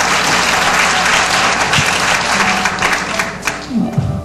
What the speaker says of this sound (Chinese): 来掌声鼓励一下先。